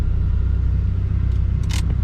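A 1988 Mazda 323 pulls away after a front brake job, a loud steady low engine rumble heard from inside the car, with a couple of brief clicks near the end.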